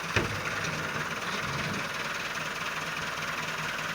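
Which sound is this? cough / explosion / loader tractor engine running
loader tractor engine running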